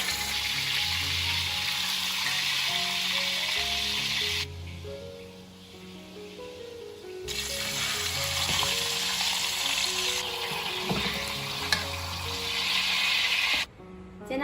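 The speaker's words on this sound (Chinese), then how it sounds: "接着把腌好的鸡放进来煎，" Marinated chicken sizzles loudly skin side down in a hot oiled pan. The crackle is close and steady with a few brief dips. No one speaks.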